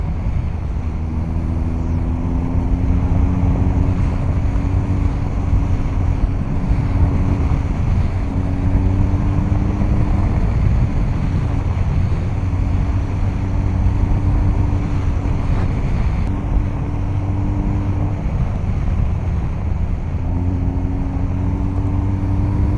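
BMW R1250 GS motorcycle riding over bumpy roads, with steady loud wind buffeting and low engine drone throughout, the pitch rising and falling in stepped harmonics as the boxer twin revs through gears.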